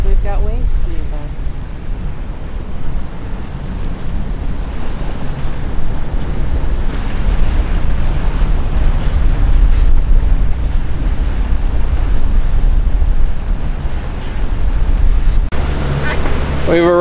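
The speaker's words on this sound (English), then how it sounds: "And hanging on as we've got waves coming by." Ocean waves and steady wind noise buffet a boat entering Charleston Harbor past Fort Sumter in the early morning, a loud, continuous wash and rush throughout, with brief talk near the end.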